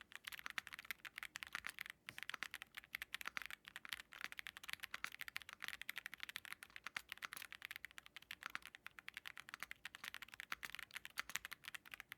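Rapid, steady typing on a budget mechanical keyboard with white keycaps in its stock, unmodified form, a continuous patter of close, crisp key clacks with no speech.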